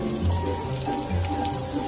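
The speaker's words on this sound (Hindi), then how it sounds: "तभी अचानक एकदम से बारिश शुरू हो जाती है।" Sudden heavy rain falls in a dark forest at night, a steady dense patter of drops that holds at an even, fairly loud level throughout with no voices.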